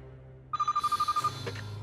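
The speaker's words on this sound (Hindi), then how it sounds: "अर्जुन का ही फोन होगा।" A telephone rings in a quiet indoor scene, a rapid trilling bell pulsing about a dozen times at a steady rhythm before cutting off, followed by low background rustle.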